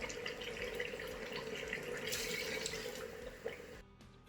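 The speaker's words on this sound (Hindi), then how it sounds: "ये हमने 8 गिलास पानी इसमें ऐड करना है, ठीक है। वो मैं ऐड करने लगी हूँ।" Glasses of water poured into a pot of Pakistani Lahori-style beef nihari, a steady continuous splashing and running-water wash close by that cuts off near the end, with no talking.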